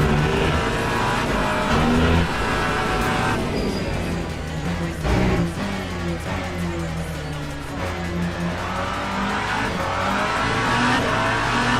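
A hypercar engine in a racing video game howls at full throttle in second gear, a loud sustained roar with shifting revs and occasional tyre noise, filling the whole stretch without talk.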